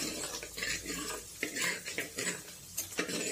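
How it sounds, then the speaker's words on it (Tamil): Chopped garlic goes into a pan for aloe vera kulambu, producing soft sizzling with repeated scraping and clinking of a spoon stirring against the metal pan, close and fairly quiet, with no talking. "பூண்டு போட்டுக்கலாம். சின்ன சின்னதாக அறுத்து வச்சிருக்கிற பூண்டு."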